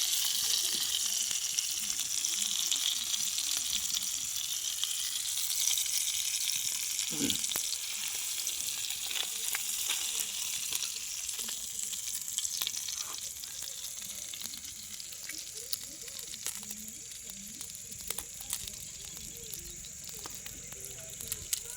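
Fish fry in hot oil in a pan, giving a steady close hiss and crackle throughout with occasional sharper pops and faint clinks, and voices talk quietly underneath.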